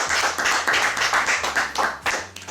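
Guests at a religious wedding in a church applaud steadily, a dense, continuous clapping from a close crowd that holds for a couple of seconds before thinning out near the end.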